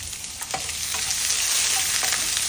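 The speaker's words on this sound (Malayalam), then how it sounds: "എന്നിട്ട് നന്നായിട്ട് സോട്ട് ചെയ്യുക. ഉള്ളി ഒന്ന് സോഫ്റ്റ് ആവുന്ന വരെ സോട്ട് ചെയ്യുക." Green chillies and chopped garlic sautéing in a pan for a Kerala-style beetroot thoran, with a loud, steady sizzle and a few soft stirring scrapes, close up and without talk.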